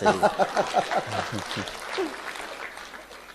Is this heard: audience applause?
yes